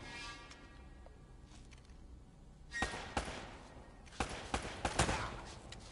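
Gunfire in Uncharted: Drake's Fortune, a video game, with a few scattered distant shots and then two louder bursts of rapid cracks later on over a low background.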